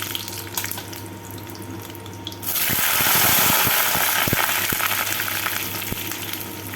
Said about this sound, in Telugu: ఫ్రై చేసేసుకుందామా